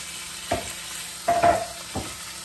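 Cut-up steak pieces sizzle in a hot frying pan, rising in three distinct bursts of crackling spatter over a quieter steady simmer, close and fairly loud, with no talking.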